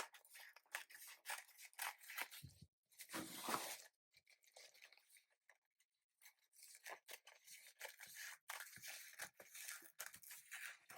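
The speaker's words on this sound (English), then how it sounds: "I'm going to cut out a majority of the napkin." Scissors snip and crunch through a paper napkin in short, quiet bursts of cutting and rustling, separated by brief silences, close and faint.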